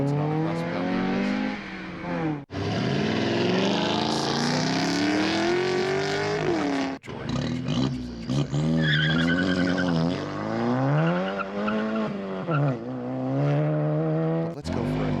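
A 2021 Tesla Model Y Long Range runs an autocross course, with loud, sustained tire squeal and skidding that rises and falls in pitch through the corners, broken by short gaps between slides.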